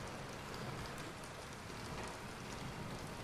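Steady video game rain in Bendy and the Dark Revival patters in a dense, even wash of noise, constant and moderately quiet with no voices.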